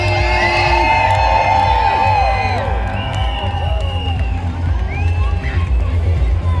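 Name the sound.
crowd cheering at London Pride parade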